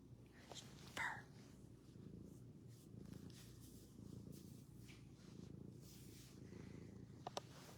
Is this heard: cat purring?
yes